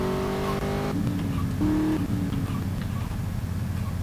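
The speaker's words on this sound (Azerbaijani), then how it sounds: "Orada maşın çox bərk gedir." A car races at high speed in the video game GTA Vice City Stories, its engine a loud, continuous drone that shifts pitch as it revs, with no break throughout.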